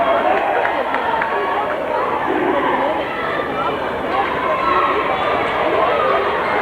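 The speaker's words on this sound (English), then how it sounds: "Near capacity crowd here" A near-capacity crowd in a high school boys' basketball gym on a cold Saturday afternoon keeps up a steady, loud murmur of chatter and cheering, with a broadcaster talking over it.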